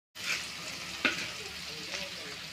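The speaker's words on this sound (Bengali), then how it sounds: "কড়াইতে আমি পেঁয়াজ কুচিটা আগে দিয়ে দিলাম তারপর সব ধরনের মশলা অ্যাড করে" Chopped onion and spices frying in a pan, a steady close sizzle with a brief stirring scrape, heard alone.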